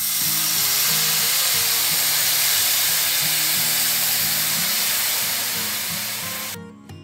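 Milk poured into a hot pan of sautéed carrots while making carrot halwa gives a loud, steady hiss and sizzle that holds for about six seconds, then fades quickly.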